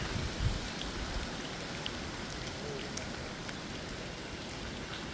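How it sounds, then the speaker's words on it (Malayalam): Steady, soft patter of light drizzle falls continuously, an even hiss of rain with no other sounds standing out. "ചെറിയൊരു ചാറ്റൽ മഴയൊക്കെ ഉണ്ട് ഇപ്പോൾ"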